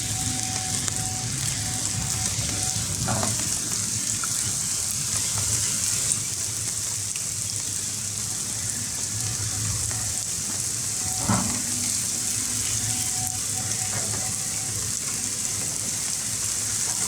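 Heavy rain pours down at a rainy-season excavator work site under a roof, a constant dense hiss with a few faint knocks, unbroken for the whole stretch.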